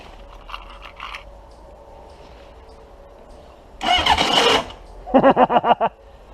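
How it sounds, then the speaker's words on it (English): Motorcycle starter cranking with a failing starter clutch: one rough grinding burst, then a quick series of sharp stuttering pulses, all close and loud over low background hum, without the engine catching. "And now the starter clutch won't work."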